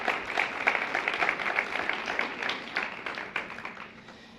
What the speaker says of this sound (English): let's go for another round of applause